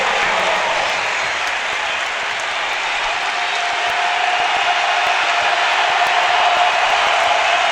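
A basketball arena crowd of South Carolina fans roars and applauds in a dense, sustained wash of cheering that stays loud and steady throughout, with no distinct voices.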